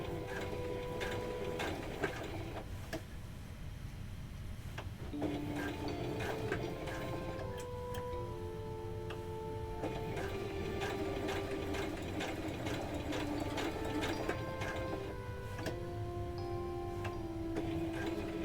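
A sewing machine stitching a plush toy hums and ticks continuously up close, with the needle set down while the fabric is turned, its mechanical whir running steadily throughout.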